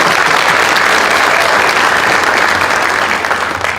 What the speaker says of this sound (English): one more round of applause to our students